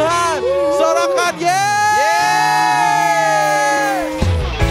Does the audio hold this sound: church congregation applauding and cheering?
yes